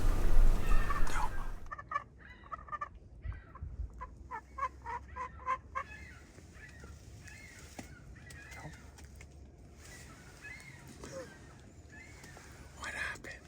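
A wild turkey gobbles during a hunt, with several short gobbles and clucks in the middle, moderately near, while hunters whisper quietly.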